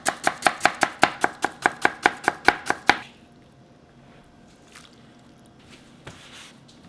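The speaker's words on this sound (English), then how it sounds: "Cut this thin like matchsticks." A knife chops raw beef into thin matchstick strips on a cutting board. Sharp, close, evenly spaced thuds come about every fifth of a second for three seconds, then stop, leaving quiet room noise.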